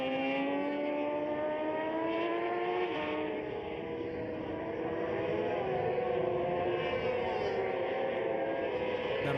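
FIM Sidecar World Championship racing engines at Aragon howl past with high revving, shifting tones. The roar is continuous and loud, with several machines overlapping as pitch rises and falls through gear changes.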